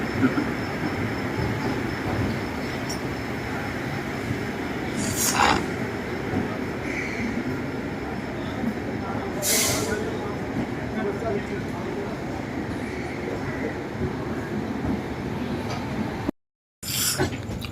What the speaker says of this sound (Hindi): तो फाइनली दोस्तों ट्रेन हमारी खुल चुकी है प्रयागराज जंक्शन से